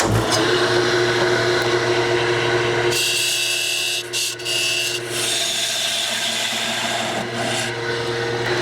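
Wood turning on a lathe as a tool rounds over the edge of a first wooden bowl held in a chuck, a steady hum with scraping cutter noise that shifts and briefly dips partway through.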